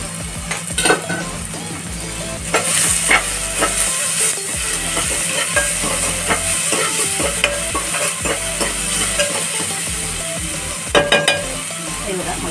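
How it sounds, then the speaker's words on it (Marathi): Onions fry in very hot oil in a pan, salted, with a loud continuous sizzle and repeated stirring scrapes and clinks running throughout. "तेल खूप गरम असल्यामुळे कांदा लगेच म्हणजे भाजून निघालेला आहे"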